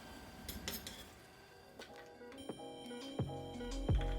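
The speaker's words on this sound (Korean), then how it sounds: "양파 반개는 3등분 후 엄지천마디 크기 정도로 잘라서 준비하고" Knife chopping half an onion into thumb-sized pieces on a cutting board in a home kitchen: a series of quiet, close taps and knocks with some faint clinks, growing slightly firmer toward the end.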